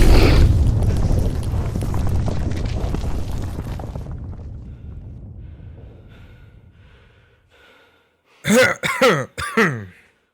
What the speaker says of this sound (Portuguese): aquela figura do monge tosse na presença de vocês